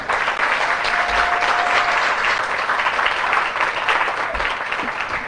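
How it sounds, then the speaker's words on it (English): A graduation audience for a service dog class bursts into a big round of applause, steady dense clapping from a large crowd that holds at full strength for several seconds without any talk over it. "How about a big round of applause for that man in the back?"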